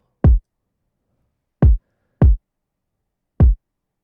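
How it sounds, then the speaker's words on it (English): Layered kick drum for a pop ballad, played alone: four short, dry, deep thumps in an uneven pattern with silence between them. "I added a kick to layer it"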